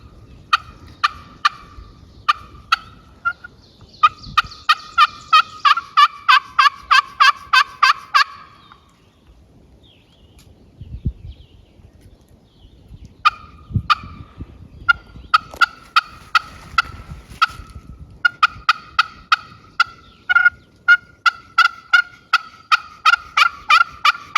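A handmade turkey pot call clucking and yelping in quick rhythmic runs, close and loud, broken by a brief quiet stretch midway before the rapid calling resumes.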